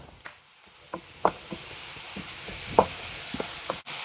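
Ground masala paste frying in a pan for a mappas curry, a low steady sizzle broken by a few soft scrapes and knocks of a stirring spoon, close up and without speech.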